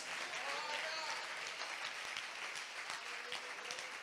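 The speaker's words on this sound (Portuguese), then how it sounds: "Você pode aplaudir ao Senhor pela sua palavra?" A church congregation applauds at a worship service, a steady, dense wash of many hands clapping that holds evenly throughout with no talk over it.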